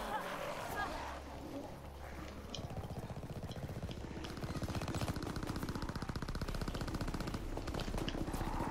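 Rapid automatic gunfire rattles continuously in a Call of Duty WWII match, a dense, fast stream of shots that builds over several seconds, fairly quiet and partly mixed with other game noise.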